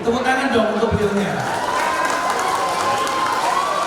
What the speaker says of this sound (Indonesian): Tepuk tangan dong untuk beliaunya.